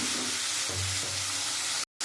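Fish going into hot oil with fried spices and cumin gives a steady, loud sizzling hiss with a brief low bubbling swell, then cuts off abruptly near the end.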